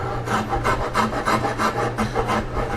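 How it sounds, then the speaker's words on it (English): A rasp shapes a wooden furniture leg for a ball-and-claw high chest in quick, rhythmic back-and-forth strokes, about a dozen scratchy rasping passes, close and clear with no voices. "So the next thing to do would be to shape the leg. And so what I did was I took a rasp here and"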